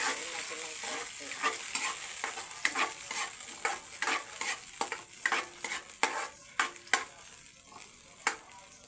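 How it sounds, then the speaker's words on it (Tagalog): Food sautéing in a frying pan, with a constant hiss of frying and a run of sharp, irregular scraping and clacking stir strokes of a utensil against the pan, close and alone. "Haluin natin ng konti."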